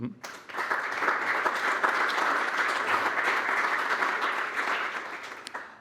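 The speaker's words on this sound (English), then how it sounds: "want to offer a round of applause for the former Chancellor of Austria" A conference audience at an energy security summit in Vienna applauds the former Chancellor of Austria, a steady, moderately distant round of clapping that holds evenly for several seconds.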